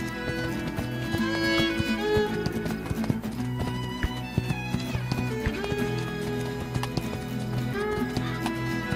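The horse Spirit gallops in the video game Spirit Lucky's Big Adventure, hooves clip-clopping in a quick, steady rhythm with occasional whinnies over continuous game music.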